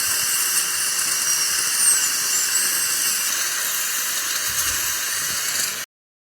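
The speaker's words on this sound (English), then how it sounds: "We mount this specific cross-cut burr on a turbine. First of all, we reduce the posterior abutment height." High-speed dental turbine fitted with a cross-cut burr grinds down an implant abutment, a steady piercing whine held for about six seconds and then cut off abruptly.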